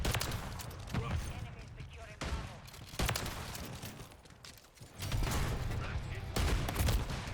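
Long-range gunfire in the game Lethal Company, fairly quiet bursts of shots arriving in irregular clusters with pauses between volleys, muffled and distant amid low background noise.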